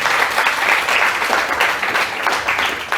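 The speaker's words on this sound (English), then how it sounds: "give a huge round of applause to all the facilitators and the organizers of this program" An audience at a self-esteem talk breaks into loud, dense applause that holds steady for a few seconds, with no voices over it.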